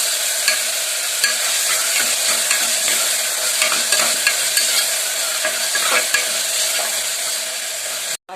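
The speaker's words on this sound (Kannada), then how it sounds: "ಇವಾಗ ಹೆಚ್ಚಿಟ್ಕೊಂಡಿರೋ ಟೊಮೆಟೊವನ್ನು ಸೇರಿಸ್ತಾ ಇದ್ದಾರೆ. ಚೆನ್ನಾಗಿ ಮಿಕ್ಸ್ ಮಾಡ್ಕೊಳ್ಳಿ." Chopped tomato and onion sizzle steadily in a hot pan over a low flame, with soft scraping stirs breaking through the continuous frying hiss; close and fairly loud, no voices.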